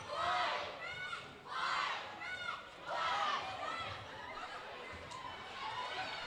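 A high school girls basketball crowd chanting in rhythmic swells, rising and falling in repeated loud cheers across the gym, with a commentator's voice underneath.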